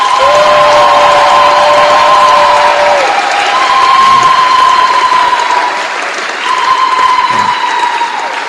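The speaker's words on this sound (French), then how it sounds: "Franck Chola Wetu, acclamons-le" A large crowd at a public gathering in Mbuji-Mayi, Kasaï, bursts into loud, sustained applause with some cheering and whistles, close and continuous for several seconds before easing off slightly.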